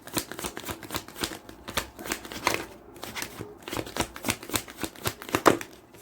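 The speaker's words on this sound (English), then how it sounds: "Let me shuffle this real quick." Tarot cards are shuffled by hand in quick, riffling bursts, a close, crisp flutter of card edges in irregular rhythmic runs with brief pauses between them.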